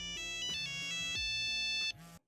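A mobile phone ringtone plays a bright repeating melodic tune, loud and close, then cuts off abruptly near the end.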